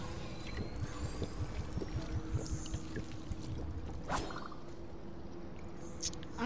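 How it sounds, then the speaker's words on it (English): Water pours steadily throughout, a continuous trickling wash with a few faint metallic clinks, heard outdoors during a heat wave. "I'm collecting some water."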